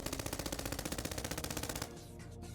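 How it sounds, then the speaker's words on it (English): Rapid automatic gunfire from a sound effect in a dramatized audio story, a steady rattling burst of shots for nearly two seconds before cutting to a softer rumbling ambience. "Dragon let out a barrage of bullets aimed right around the hallway's corner."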